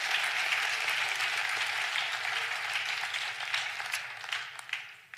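Church congregation applauding after a sermon passage, a steady wash of many hands clapping that holds fairly even and then thins out toward the end.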